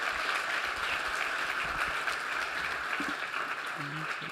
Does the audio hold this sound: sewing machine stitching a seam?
no